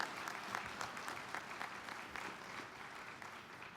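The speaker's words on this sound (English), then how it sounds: "very warm round of applause." An audience at an award ceremony gives a warm round of applause, steady dense clapping from a crowd, moderately loud and sustained throughout with no voices over it.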